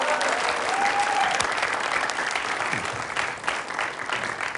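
An audience claps steadily, a broad wash of applause with a brief whoop near the start, gradually easing in the last seconds.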